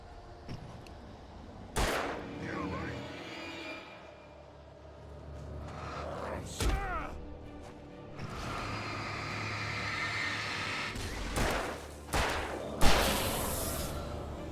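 Gunshots fired at a chest in the video game Alan Wake, several sharp isolated cracks spaced seconds apart over a quiet, rumbling ambient background.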